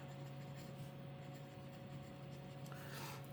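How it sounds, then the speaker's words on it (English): A fountain pen loaded with Sailor Manyo Nekoyanagi ink scratches softly and steadily across copy paper, very faint and close in a quiet room. "Hopefully I'm writing that down correctly."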